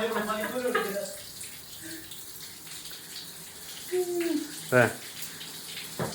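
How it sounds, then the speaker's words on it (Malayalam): Starchy water is poured off freshly cooked rice in a home kitchen, a running, gushing stream with a few splashes, while people talk over it. "ഇവിടുത്തെ കഞ്ഞിവെള്ളമൊന്നും എടുക്കാത്തതുകൊണ്ട് അത് ഊറ്റി കളയിലാണ് ഇവിടെ"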